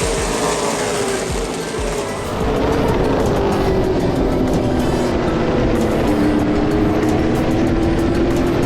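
A tight pack of drag race cars roars past together on a track, a loud, continuous engine drone with rising and falling pitch that swells after a brief dip and holds steady.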